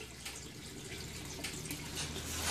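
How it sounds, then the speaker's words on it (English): Water siphons through a tube drawn from an aquarium, a steady, faint gurgling trickle with small splashy bursts that builds slightly toward the end, heard close with no voices. "I'll put the tube on, and it'll start siphoning probably immediately."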